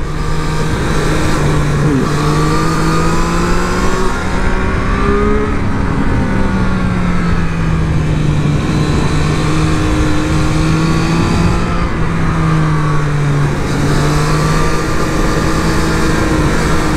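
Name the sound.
Triumph Street Triple 765RS motorcycle engine revving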